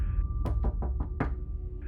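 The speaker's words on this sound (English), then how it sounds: "there was a knock at the door," Several sharp knocks on a door, five quick raps in an uneven cluster, close and distinct against a quiet background.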